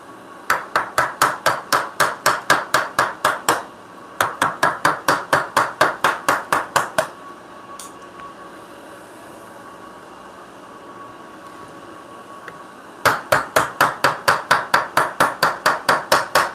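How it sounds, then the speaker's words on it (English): Rapid, evenly spaced framing hammer blows on a framing chisel in wood, two long bursts, a quiet pause with a faint hum, then another burst. "Let's use the framing chisel and put a little muscle into it."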